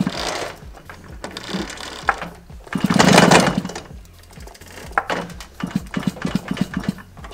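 A Puch Maxi E50 automatic moped engine with its ignition points exposed is turned over by hand, clicking and ratcheting in uneven bursts, then faster, with a louder whirring burst in the middle, close up.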